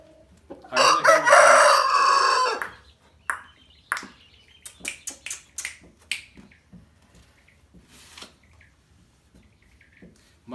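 An aseel rooster crows once, loud and close, then short clucks and sharp snapping clicks follow in an irregular series against a quiet background.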